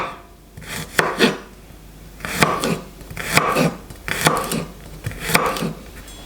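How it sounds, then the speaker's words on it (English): A knife roughly chopping two garlic cloves on a cutting board for venison goulash, with uneven clusters of close, crisp taps and scraping strokes, repeated several times with short pauses between. "Two cloves of garlic, also same thing, roughly chopped."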